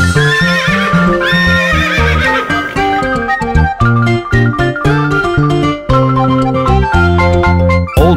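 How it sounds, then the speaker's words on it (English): A cartoon horse neighs loudly over upbeat Old MacDonald nursery-rhyme music with clip-clopping hooves, a bright whinny within a bouncy backing track. "on his farm he had some horses, E-I-E-I-O. With a neigh neigh here, neigh neigh there"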